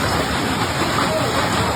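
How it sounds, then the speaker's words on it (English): Large hail pellets pour down in a front yard, a dense, steady hiss and patter of ice striking grass, walkway and street, continuous and close throughout. "Omatoyo posted a video of the large hail pellets raining down in her front yard"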